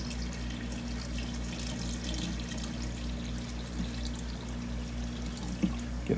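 Water pours from an ice cream container into a 5-gallon aquarium tank in a garage, a continuous splashing stream over a low steady hum, ending with a couple of small splashes.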